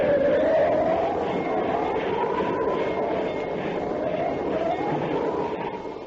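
A train travelling in a Cole Porter Broadway musical stage production, a continuous rumbling rail sound with a rising and falling whistle-like tone over it, loud and sustained.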